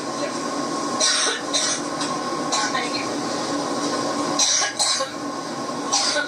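Bursts of harsh coughing repeat through the clip over a steady background hum, close and loud, with a brief spoken remark in between.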